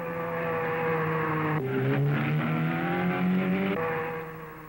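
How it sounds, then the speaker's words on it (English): Sports cars race up the asphalt Chimney Rock hill climb around 1960, their engines roaring steadily and loud, with rising revs and gear changes as a car climbs close by, no talk over it. "These sports car drivers painting big stripes of rubber on the asphalt road going to the top."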